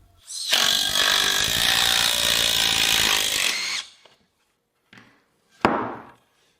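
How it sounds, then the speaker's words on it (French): An impact driver drives a screw into wood with a loud, close, rapid hammering rattle lasting about three seconds, then stops; two short tool bursts follow after a pause. "Je vais visser cette vis avec la visseuse à choc tant que l'embout est assez long."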